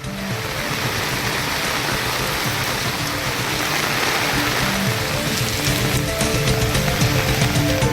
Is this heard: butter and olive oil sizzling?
no